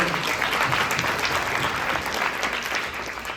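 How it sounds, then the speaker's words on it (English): A room at a fundraising gala breaks into a sustained round of applause, steady and fairly loud from many hands throughout, with a faint voice or two underneath. "Yes, that is a round of applause."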